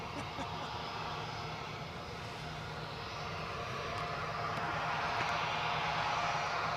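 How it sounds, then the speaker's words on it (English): An EasyJet airliner on short final for landing at Edinburgh Airport gives off a steady, broad jet roar at a distance that swells slightly as it approaches. "EasyJet in on short finals, but hit the dirt."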